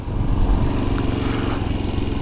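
A 2019 Suzuki DRZ 400SM supermoto runs steadily while riding, its single-cylinder engine giving a loud, continuous throbbing drone close to the microphone with no talk.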